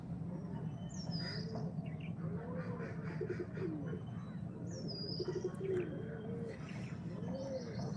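Lakkha pigeons coo in soft repeated rolling calls, with a few higher chirps and a low steady hum underneath.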